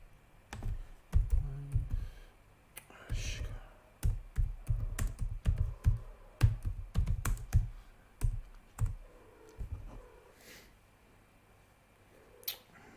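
Rapid clicking of computer keys in uneven bursts, close by, with short pauses between flurries of typing.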